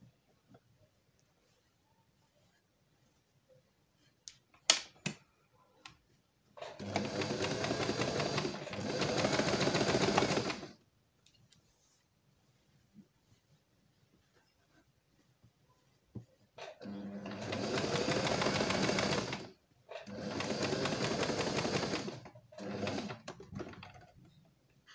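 A sewing machine stitching a collar neckline runs in two pairs of steady, close bursts of several seconds each, separated by quiet gaps with a few faint clicks and handling sounds.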